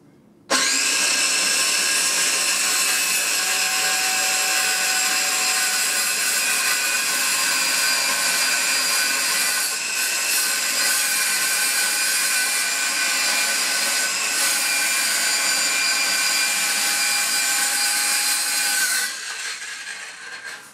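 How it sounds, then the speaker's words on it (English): A saw cuts through wood while building DIY barn-style doors. The cutting is loud, steady and close for about eighteen seconds, with no talk, then trails off near the end. "the saw's just as good"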